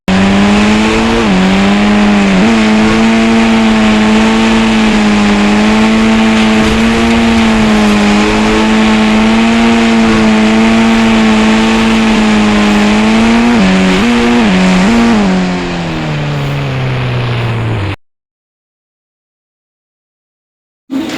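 A car engine in the India 3D video game revs loudly and continuously with a steady rising-and-falling drone, a couple of brief dips near the end, then cuts to silence.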